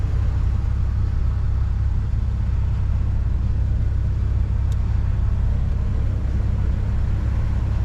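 A Toyota Supra with a B58 engine on the move, a deep, steady low rumble filling the cabin at an even level throughout, heard up close from inside.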